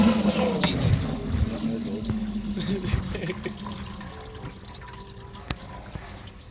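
Coolant draining from a 2011 WRX STI engine into a bucket, a steady trickle of liquid that thins toward the end into a few separate drips, with a voice talking faintly at times.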